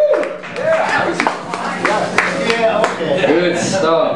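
Audience at a blues jam claps and cheers for the musicians, brief scattered applause and whoops mixed with someone talking loudly over it.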